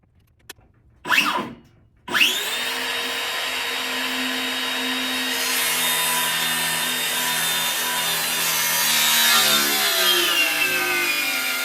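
A saw blade cuts through unsupported floor boards during a floor install in a 1st-gen Toyota Sequoia camper, with two short bursts of cutting followed by a long, loud, sustained buzzing cut that shifts in pitch as the blade bogs.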